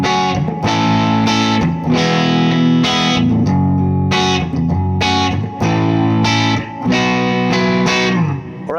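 Electric guitar played through a Benson Vincent amp in the split pickup position, edge-of-breakup tone with light grit; chords strummed in a steady rhythm, each ringing out before the next, loud and close with no talking.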